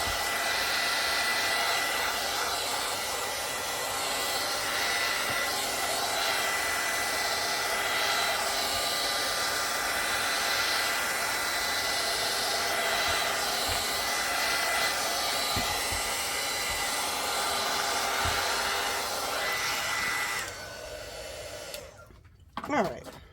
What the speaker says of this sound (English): Let me use my hot tool here.